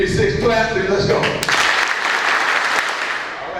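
Loud group clapping from a Washington Commanders gathering bursts in after a stretch of voices, a dense wash of hand claps with a few sharper strikes standing out as it fades slightly.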